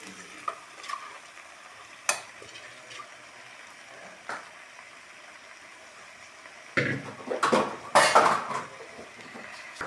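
Chicken pieces frying in a pressure cooker while being stirred, a constant sizzle broken by sharp metal scrapes and clanks of a spoon against the pot, growing busier toward the end.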